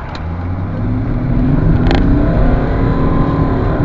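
A 2003 BMW 530d 5 Series diesel accelerating from inside, engine drone rising steadily and loud, with a brief jerky, laggy gear change partway through.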